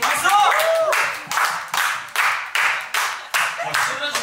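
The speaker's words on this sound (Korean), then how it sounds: "아, 또 우리 이생님께서 폴더블을 드신다 하십니다. 박수! 박수!" Fans clap at an OnlyOneOf fan cafe event run by Ktown4u, sharp bursts repeating in a steady rhythmic beat, with a voice speaking over the start.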